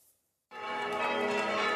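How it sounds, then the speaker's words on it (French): Church bells ring out for a traditional festival in Sardinia, a sustained, resonant peal that begins abruptly after a brief silence and continues steadily at a moderate distance. "ils ont accouru au son des cloches et des sabots des chevaux"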